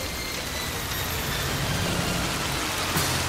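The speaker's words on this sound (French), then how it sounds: "Je vais concentrer toute cette averse sur les arbres" A cartoon rain shower, summoned as a magical downpour over trees, pours as a dense, steady hiss of falling water throughout, with a brief bright splash near the end.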